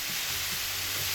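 Spice paste with salt and turmeric sautéing on low heat in a pan gives a steady, soft, hissing sizzle that runs unbroken through the brief moment, with no voices.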